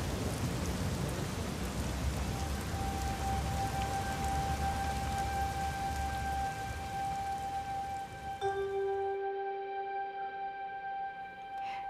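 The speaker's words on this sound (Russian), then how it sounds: "Дождь." Steady rain pours down, a dense broadband hiss that lasts nearly the whole stretch before cutting off abruptly near the end, leaving faint tonal hum behind.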